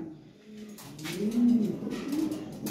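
Lahori pigeons coo softly nearby, low rounded murmuring calls rising and falling over a faint background hum.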